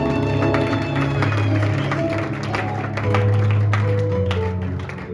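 A church congregation claps along during a prayer service, steady rhythmic hand clapping over sustained music and voices, loud and continuous.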